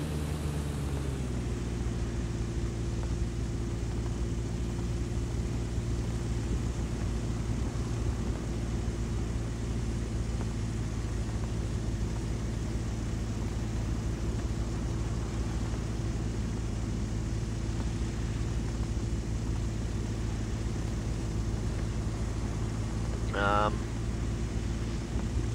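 Steady droning propeller engine of an A22LS Foxbat light aircraft in a flight simulator, a constant loud hum throughout with one brief rising chirp near the end.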